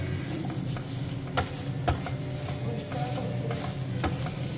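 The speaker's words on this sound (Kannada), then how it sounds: "ಮೊದಲು ಅದರದ್ದು ಖಾರಕ್ಕೋಸ್ಕರ ಎಲ್ಲ ಐಟಮ್ನ ಕುಯ್ಕೊಂಡು ಕಟ್ ಮಾಡಿಕೊಂಡು ಒಗ್ಗರಣೆ ಹಾಕ್ತಿದ್ದಾರೆ" Chopped ingredients tempering in hot oil for a spicy biryani masala, sizzling steadily at close range while a spoon scrapes and knocks against the pan a few times.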